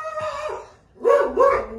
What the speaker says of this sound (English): Damn dogs. No more barking, please.